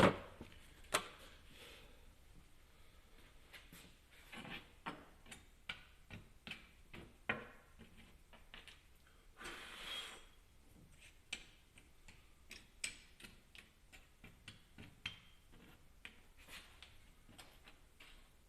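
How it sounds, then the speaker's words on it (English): Sandpaper rubbing on a small model car for a Gaslands build, heard as soft irregular scratchy strokes and light ticks, close and quiet, with no one talking. "But let us sandpaper for a bit."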